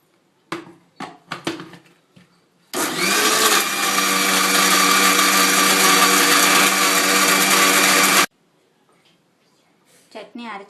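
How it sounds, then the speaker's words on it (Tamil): A kitchen mixer grinder whirs loudly for about five and a half seconds, grinding urad dal chutney, then cuts off abruptly; a person speaks before and after. "சட்னி அரைச்சாச்சுங்க."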